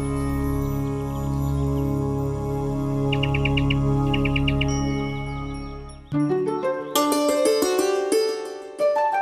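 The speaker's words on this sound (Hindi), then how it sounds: "अरे नंदी, ये शोर कहाँ, मैं तो इन पंछियों से बात कर रही थी" Short bursts of high bird chirps over sustained humming tones, followed by bright tinkling chime-like notes.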